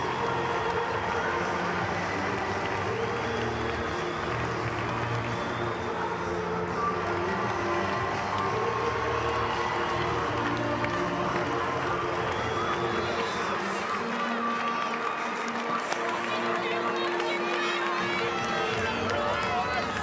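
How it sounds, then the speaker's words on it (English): Fremantle Dockers fans in a football stadium applaud and cheer a departing player, a broad, steady roar of crowd noise and clapping that carries on throughout with a commentator's voice over it. "one last little applause and acknowledgement from the Freo faithful"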